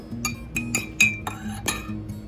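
A spoon stirs milk tea in a glass, giving a run of light, evenly spaced clinks against the glass in a quiet kitchen with no talking.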